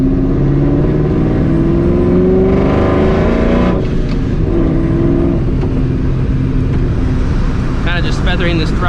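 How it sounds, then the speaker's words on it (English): A straight-piped supercharged 2004 Mustang GT engine revs loud and close under light throttle, rising whine and harsh exhaust roar, with a person talking over it. "trying to feather this throttle because I do not need this car to spin."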